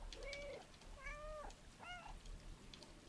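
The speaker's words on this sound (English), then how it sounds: "I can meow." Several cat meows from the video game Stray, three distinct rising-falling calls spaced about a second apart, close and clear over a soft steady background.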